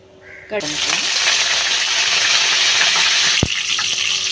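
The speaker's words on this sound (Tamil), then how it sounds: "கடாய் காஞ்சதுக்கப்புறம் கடுகு ஆட் பண்ணிக்கலாம்." Mustard seeds land in hot oil in a kadai and set off a steady, loud broadband sizzle that holds throughout, with a sharp clink near the end.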